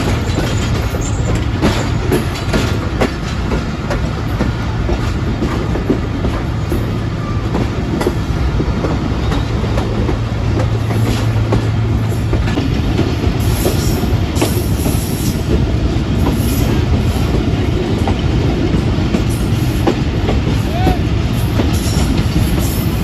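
The Pakistan Express switches from a station loop line onto the main line with a loud, steady rumble of wheels and carriages. Clicking rail joints and occasional wheel squeal run through it, close by, and no voice is heard.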